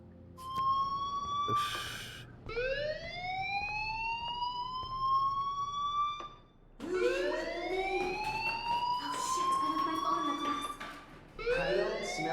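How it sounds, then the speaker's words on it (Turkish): A fire alarm in the video game Life is Strange wails in repeated rising siren sweeps with short pauses between them. A brief spoken exclamation is heard. "do you hear that fire alarm? That means you should be outside."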